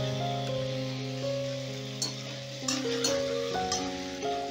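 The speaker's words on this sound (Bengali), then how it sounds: "এবারে এটা সামান্য একটু ভাজা ভাজা করে নেব।" Spices and chopped tomatoes sizzling and frying in a pan for vegetable khichuri, a steady close crackle with occasional stirring clatters and a faint tonal hum beneath.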